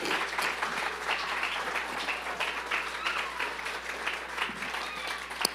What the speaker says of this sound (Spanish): ¿Le puede dar un fuerte aplauso al Señor en esta mañana?